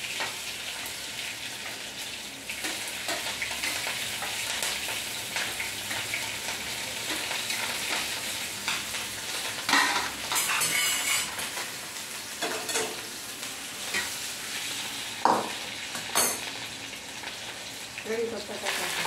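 Garlic frying in hot oil with mustard seeds and cumin, a steady close sizzle and crackle with a few louder pops and stirring scrapes throughout.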